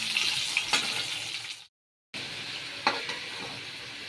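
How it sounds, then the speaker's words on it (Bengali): Potatoes frying in a pan, with steady sizzling and occasional stirring scrapes, briefly cut to silence midway before the frying resumes. "ততক্ষণ এই আলুটা ভেজে নিই লাল লাল করে।"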